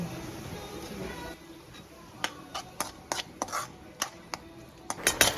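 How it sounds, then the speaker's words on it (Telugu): Tomato pieces stirred in a frying pan for a homestyle crab curry, a low sizzle running beneath a series of sharp utensil scrapes and clinks against the pan, growing busier toward the end. "ఇప్పుడు ముందుగానే కట్ చేసి పెట్టుకున్న టమాటో ముక్కలు యాడ్ చేసుకొని అవి మొత్తం మగ్గే వరకు కలుపుకుంటూ ఉండాలి."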